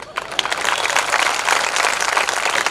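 A hall audience at a Jain spiritual discourse breaks into fuller applause, a steady, dense wash of clapping that holds at an even, fairly loud level throughout, with faint voices underneath.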